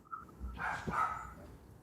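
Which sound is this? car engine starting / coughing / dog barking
dog barking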